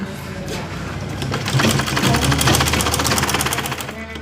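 A sewing machine stitches a drawer pocket band in a fast, steady rattling run that grows louder midway and keeps going to the end, with a voice faintly audible underneath.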